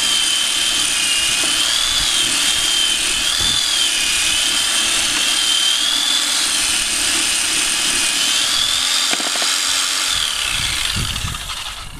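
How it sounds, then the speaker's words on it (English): A Cyclo Polisher spins buffing pads inside a Universal Pad Washer fitted with a grit guard, making a loud, steady, close motor whine with a wavering tone that holds for the whole stretch and fades slightly at the end. "So I'm going to go ahead and push down lightly, and I'm going to turn the Cyclo Polisher on."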